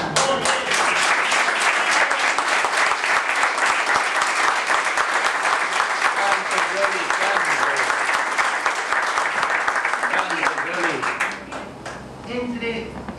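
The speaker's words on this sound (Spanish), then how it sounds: "El aplauso es para Yoli Barán." Sustained audience applause in a tango show studio, dense and loud for most of the stretch before tapering off near the end, with voices coming in over the fading claps.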